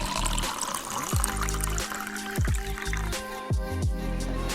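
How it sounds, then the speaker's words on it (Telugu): Water pours into a cooking pot for a country chicken curry, a steady splashing trickle close by with a few gurgling surges, heard alone without talk. "నీళ్లు పోయాలి."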